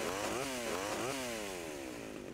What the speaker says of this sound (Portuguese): Tá de motosserra aí